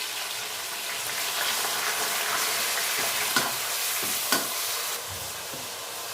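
Sliced tomatoes and cumin sizzle steadily in a hot pan for pulao, a dense continuous frying hiss with a few soft stirring scrapes, heard close with no talk.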